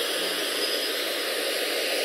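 Steady roaring hiss of three aircraft jet engines in a flight video game, loud and continuous with no breaks.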